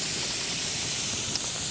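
Potatoes and vegetables for a shepherd's pie sizzle in a pan, giving a steady, even hiss that holds at one level throughout, close and moderately loud, with no talking.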